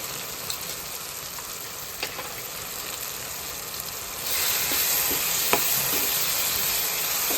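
Tomatoes fry in a pan for a cauliflower chana dal curry with a constant sizzle that swells louder partway through. Faint stirring clicks sound over it, and nobody speaks.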